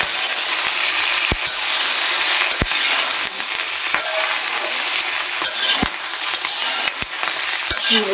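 Green chilies frying in hot soybean oil give a loud, continuous hissing sizzle with sharp popping spatters scattered throughout, close up and with no talking.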